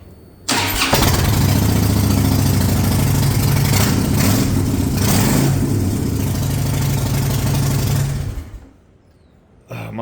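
A Harley-Davidson Shovelhead motorcycle engine fires up and runs loud and close with a deep, lumpy rumble for several seconds, then cuts off sharply before a brief restart at the end.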